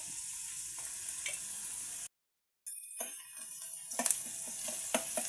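Onions with turmeric, ginger and garlic fry in oil with a bright, steady sizzle, broken by a short cut to silence, then sizzling resumes with clinking stirs of a utensil against the pan.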